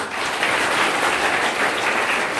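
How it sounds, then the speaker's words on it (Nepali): Audience applause from a large crowd at a DXN business program in Banke, steady dense clapping for the full stretch with no voices over it. "हाम्रो सर ग्रेड गुरु उहाँलाई जोरदार ताली।"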